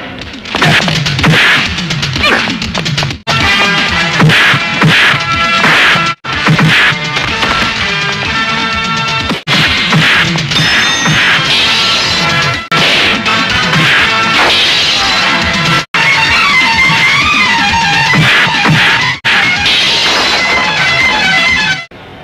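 Film fight scene with two brothers beating up a villain and his henchmen: loud, rapid punches, smacks and crashing blows in dense bursts over a dramatic music score, broken by brief silent cuts.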